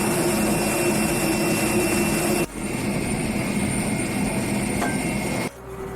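British Airways jet at Heathrow, engines producing a steady, loud broadband roar with a whining tone that shifts level twice, with no voices.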